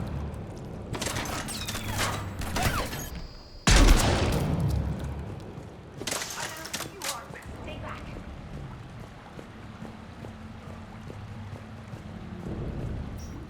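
Gunfire in Mass Effect 3 Legendary Edition, bursts of rapid weapon fire with a heavy blast at the midpoint, then more shots over a background of rumbling combat noise.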